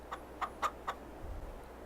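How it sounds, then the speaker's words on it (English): Chickens clucking in Farming Simulator 22, German landrace hens on a farm; four short, fairly faint clucks in a loose rhythm, followed by a soft low rumble. "Hello chickens, how you doing?"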